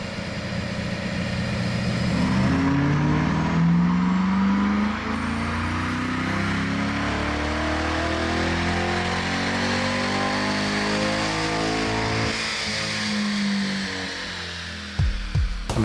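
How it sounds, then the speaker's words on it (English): A C8 Corvette on a chassis dyno during a baseline pull, its engine droning loud and steady as it sweeps up through the revs for over ten seconds, then dropping away to a lower idle near the end. "we start with baseline dyno pulls to establish our starting point for horsepower and torque."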